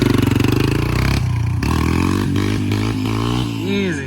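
A dirt bike with an oversized rear sprocket accelerates hard in second gear, its engine revving loud and close, rising in pitch with brief gear-shift dips and a final climbing whine.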